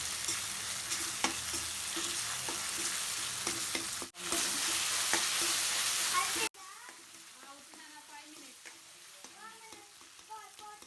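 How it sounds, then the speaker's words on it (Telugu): Tomatoes with ginger-garlic paste stirred and cooked in a pan, a steady sizzle with spoon scraping for the first six seconds before the frying drops to a quieter simmer. "ఈ టమాటా ఒకసారి బాగా కలుపుకొని కొంచెం మగ్గనిద్దాము."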